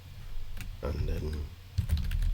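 Someone types on a German computer keyboard while entering code, producing quick clusters of close clicky keystrokes under a speaking voice.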